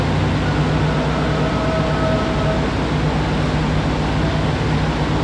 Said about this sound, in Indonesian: Rangkaian kereta api Sembrani yang akan saya naiki saat ini sedang dilansir